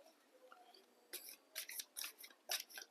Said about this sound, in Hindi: तो आपके लिए हम अभी कार्ड्स शफल कर रहे हैं।